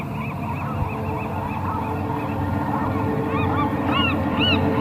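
A large menacing bird honks repeatedly in The Journey Down video game, rising goose-like calls over a steady ambient background, growing louder toward the end.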